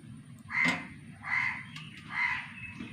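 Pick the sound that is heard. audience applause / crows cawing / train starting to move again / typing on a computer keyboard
crows cawing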